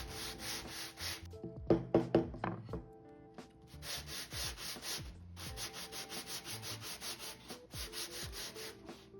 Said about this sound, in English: Now we have a little sanding block. So we're starting off with a 120 grit.